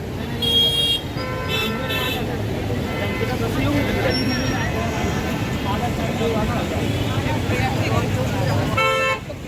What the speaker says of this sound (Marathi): आणि तर बरीचशी ट्रॅफिक पण होती